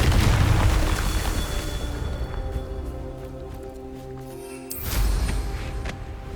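A fiery Confringo spell explodes in Hogwarts Legacy with a loud, heavy boom that fades over several seconds, followed by a second burst of crackling noise near the end.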